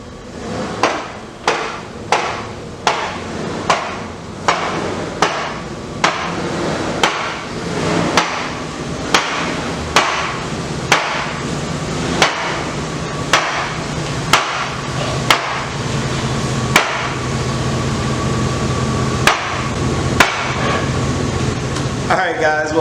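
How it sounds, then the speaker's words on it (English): A work truck's front end clacks loudly while driving, sharp metallic knocks repeating roughly every second over a steady engine and road drone, with a voice speaking now and then underneath. "you heard the loud clacking sound that's coming from the front of this thing"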